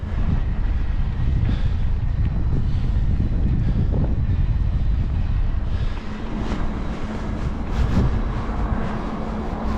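Strong crosswind buffets the microphone on a ride near Yalta, a loud, constant low rumble with gusts that rise and fall, and faint traffic-like noise behind it.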